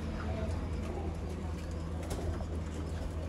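Low, murmuring coos from golden pigeons, a female among them, roll on steadily through the whole stretch, close and fairly loud over a constant rumbling background, with no distinct separate calls standing out.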